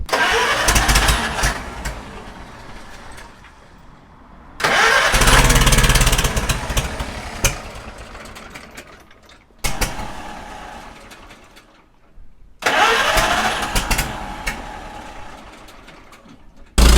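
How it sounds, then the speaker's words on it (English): A small three-wheel tractor engine is cranked four times, each attempt coughing and sputtering briefly before dying down, the last one catching; loud and close, no talking. "That's got it going eventually. Took a fair bit of starting, but we got there."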